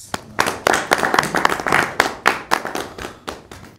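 An audience at a Christmas Special Mushaira gives a brisk round of clapping as the guest poet is welcomed. Many crisp, overlapping hand claps fill nearly four seconds at a fairly close, lively level.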